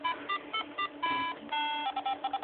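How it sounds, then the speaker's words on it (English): A handheld Laser LCD video game plays a simple electronic ringtone during a cutscene: a quick run of clean, bright beeping tones in short bursts and held notes, close and alone. "little cutscene with nice simple ringtone"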